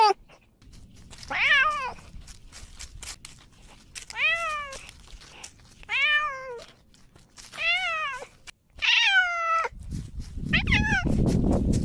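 A cat left behind at home meows repeatedly, about six loud drawn-out cries spaced a second or two apart, close by, with a brief rustling noise at the end.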